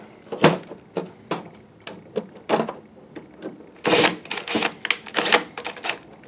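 A small pin inside a Christie LX66 LCD projector knocks against its door-shut switch, giving a close, irregular run of sharp plastic clicks and ticks, with denser clusters of taps toward the end.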